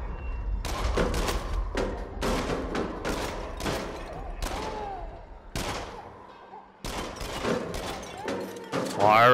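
Gunfire in the VR game Until Dawn: Rush of Blood, with repeated bursts of rapid close shots and thuds in a dense, irregular rhythm, loud and near, broken by brief gaps.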